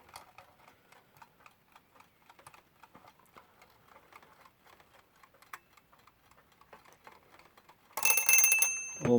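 A Westclox Lark alarm clock ticks faintly and steadily for several seconds, then its bell breaks into a loud, continuous ring close by.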